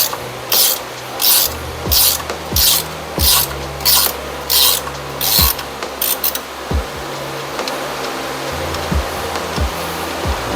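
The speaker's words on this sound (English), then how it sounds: "We can get our ratcheting wrench in here and take them all the way out." Ratcheting wrench backing out axle bolts on a Jeep JK, a steady run of about ten quick, bright ratcheting bursts in an even rhythm, close and fairly loud, then a few lighter clicks over a low hum.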